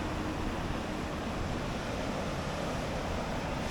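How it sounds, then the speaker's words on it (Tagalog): Ocean surf rolls onto the shore as a continuous broadband roar, steady and fairly loud, with wind rushing across the microphone and no voices audible. "Lakas ng alon din."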